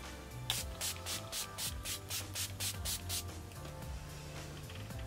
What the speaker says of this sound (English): I could spray that on my face all day